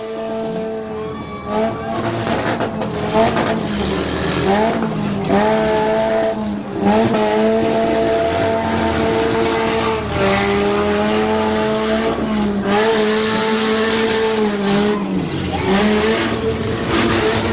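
A loud demolition derby car engine at a firemen's festival revs continuously, its pitch surging and dipping as tires squeal in repeated donuts, heard up close without talking.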